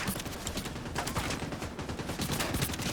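Rapid automatic fire from a Vector submachine gun in Division 2, a dense, continuous burst of fast shots lasting several seconds, loud and close with no pause.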